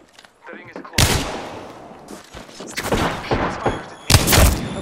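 Gunfire in a battle royale video game as the final squads close in, loud sharp bursts of rapid shots in several clusters, with brief quiet gaps between them.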